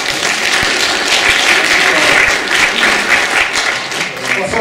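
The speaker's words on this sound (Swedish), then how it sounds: "tacka dig igen en gång med en applåd" An audience at a talk on the Falu procurement model gives a thank-you round of applause, loud, dense clapping holding steady and easing slightly near the end.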